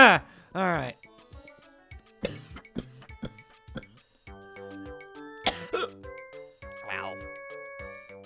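A short coughing fit: several harsh, separate coughs and throat clears come in bursts close to the ear, mixed with light chiming tones from a game in the background.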